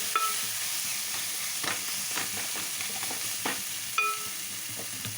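Turmeric fries in oil for a gongura tomato curry: a bright, steady sizzle broken by a series of sharp spatula strikes and scrapes against the pan, close and clear.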